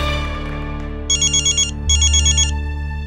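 A phone rings with a bright electronic ringtone, two pulsing bursts over a low steady hum.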